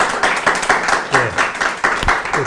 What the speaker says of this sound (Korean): 우리 모두 박수로 인사를 드립시다.